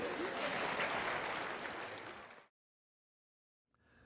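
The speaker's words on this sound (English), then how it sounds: "Give him a round of applause." A class applauds a participant in a classroom trading exercise. A dense burst of clapping lasts about two and a half seconds, then cuts off abruptly into silence before a faint sound returns.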